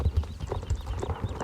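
Horse hooves clip-clop in a steady, moderately quiet rhythm as a horse is ridden in the online video game Star Stable Online, with no talking.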